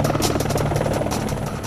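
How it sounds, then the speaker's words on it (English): A helicopter on a short heli-skiing flight near the Matterhorn summit gives a close, steady rotor thump over a continuous turbine buzz, loud and unbroken throughout. "Just a short ride in a helicopter can take you as close as you can get to the summit"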